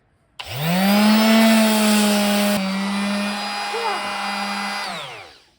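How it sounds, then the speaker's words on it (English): Power sander working the main face of a wooden crucifix, a loud steady whine that starts abruptly, holds with a slight shift midway, and winds down as the tool stops. "now we're going to sand the most important face of this"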